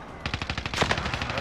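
Rapid automatic gunfire in a tactical multiplayer shooter game, a fast, evenly spaced burst of loud shots, about a dozen in quick succession, sounding close.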